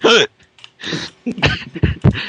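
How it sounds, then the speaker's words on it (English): A single sharp hiccup bursts out at the start, followed by a faint breath and then scattered speech-like sounds. "I'm sorry, I hiccuped again."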